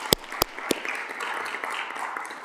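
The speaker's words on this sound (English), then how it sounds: "That is worth clapping for." Audience applause at a city council meeting, opening with a few sharp, close individual claps before settling into light, moderately distant scattered clapping for the rest of the short stretch.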